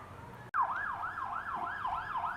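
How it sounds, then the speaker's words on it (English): An ambulance siren wails up a road, a close, loud rising and falling yelp cycling steadily about every half second, after a brief sharp click at the start. "I'm also tuning up the ambulance coming up the road."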